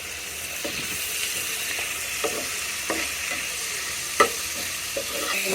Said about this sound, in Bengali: এরপরে কিন্তু সব ভেজে নিচ্ছি একটা সবজির মতন হয়ে গেছে